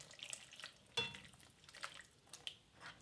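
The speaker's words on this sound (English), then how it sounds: "just let this simmer for a while" Red wine sauce simmering gently in a pan: faint, irregular bubbling and small pops, quiet and close, with no talking.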